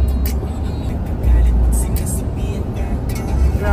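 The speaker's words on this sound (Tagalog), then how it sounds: "Ayan, daming sasakyan nila." Dense, heavy traffic on Highway 401, a busy multi-lane highway, makes a steady loud roar of many cars and trucks rushing past without letup.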